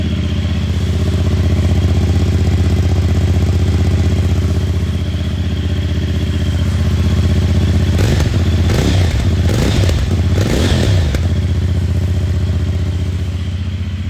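A cold motorcycle engine idles with a steady low throb, then revs up and down a few times before settling back to idle.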